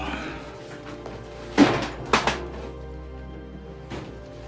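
A drawer is pulled open nearby with a few short wooden knocks and a scrape, then a faint later bump in an otherwise quiet room.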